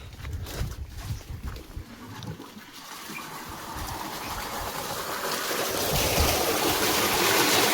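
Water gushes out of a pump pipe feeding a farm drip irrigation line, starting with low rumbling surges and building into a loud, steady rushing flow.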